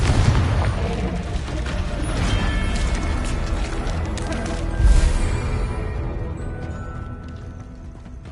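A Confringo fire spell cast in Hogwarts Legacy erupts as a loud rumbling boom amid continuous battle noise, with a sharp burst near the middle that fades into a lingering roar.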